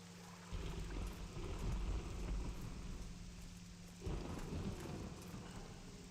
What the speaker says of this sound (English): And of course it loves to rain when we travel.